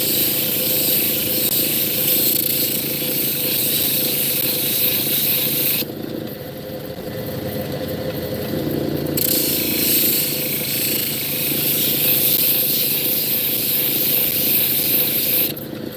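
Obsidian being ground against a 140-grit resin-based diamond wheel, a steady loud hiss and whir running throughout with a brief lighter stretch midway, close and continuous with no talk.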